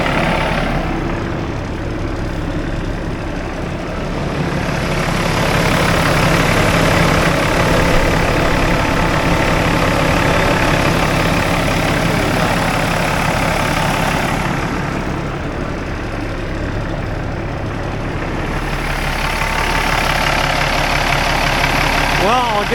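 A 2010 Peterbilt 387 heavy truck idles with its clutch fan running, a steady low diesel rumble and fan roar that swells and eases through the clip while someone talks over it.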